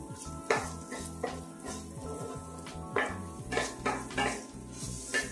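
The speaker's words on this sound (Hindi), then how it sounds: "अब मैं यहाँ पे डाल दूंगी 2 से 3 जो है बारीक कटी प्याज। प्याज को हल्का सा सोते कर लेंगे।" Finely chopped onions sauté in melted desi ghee in a pan, a constant close sizzle broken by repeated scraping and clinking of a spoon stirring against the metal.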